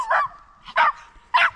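A dog barks three times in quick, evenly spaced bursts, close and fairly loud, outdoors at a bike park while a trail ride is under way.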